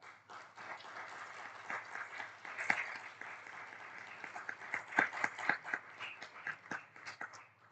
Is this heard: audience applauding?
yes